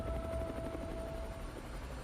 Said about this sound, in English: helicopter sound.